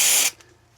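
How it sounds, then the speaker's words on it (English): A single short, sharp spritz of UPVC cleaner from a hand spray bottle, up close and loud, cut off quickly and followed by near silence. "just get a cloth, spray it on"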